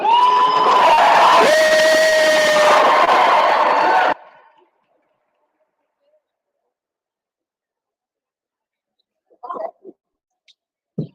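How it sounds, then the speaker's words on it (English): Cheering and whooping crowd at an Ethnic Studies Day rally at the Minnesota Capitol, loud and dense for about four seconds before cutting off abruptly, followed by silence and a few faint scattered sounds. "One last round of applause for them."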